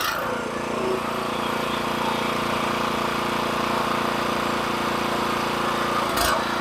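A sawmill engine runs steadily and loudly throughout with a constant low hum and droning texture, pausing only with a brief thump near the end; no one talks.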